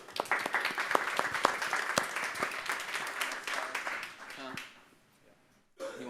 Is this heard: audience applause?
yes